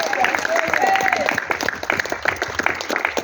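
A church congregation claps together in a steady, dense patter of applause, with voices mixed in among the hands.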